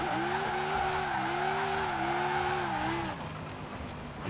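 Stretched limousine in Forza Horizon 4, rear-wheel drive with drift suspension, untuned, drifting with a loud droning engine note that wavers in pitch alongside squealing tires, then the engine drops and eases off near the end.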